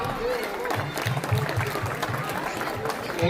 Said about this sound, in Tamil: அவங்களுக்கு ஒரு பெரிய கைத்தட்டல் கொடுத்துடலாம்